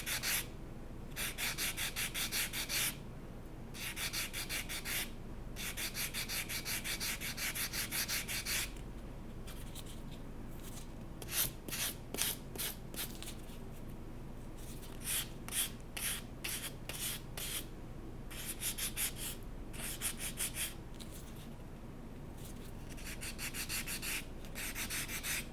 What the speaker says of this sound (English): I'm just going to take my Vintage relief block and very carefully go over some of those raised details